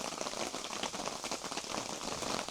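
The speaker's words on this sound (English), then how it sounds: "the rain decided to start again" Heavy rain pours steadily on a campsite, a dense continuous patter of drops hitting surfaces close by, with no voices.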